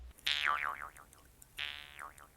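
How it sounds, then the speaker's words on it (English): A twanging Jew's harp sound effect, shaped by a human performance, plays as two bright springy boings. Each has a wobbling, decaying pitch, and they are separated by a short pause. "The human performance is driving the shape of the twanging Jew's harp."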